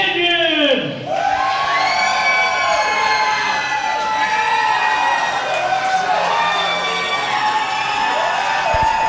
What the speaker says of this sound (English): you hear this capacity crowd here tonight in the almost sold-out Newmarket Unrestricted Arena